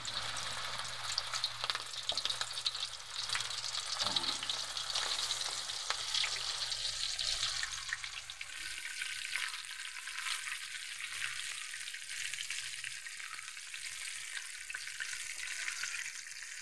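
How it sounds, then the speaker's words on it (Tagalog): Chicken backbone sizzles in hot oil in a wok over high flame, a loud, crackling hiss that stays dense and close, then thins to a lighter steady bubbling as it cooks. "Mainit na yung ating mantika sa kwali. Piprito natin yan sa madandahan ng apoy."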